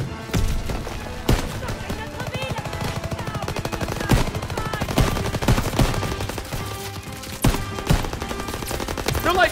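Rapid bursts of gunfire from a gun in the video game Call of Duty WW2 crack repeatedly and loudly across the whole stretch, with heavier booming shots standing out among the rattling fire.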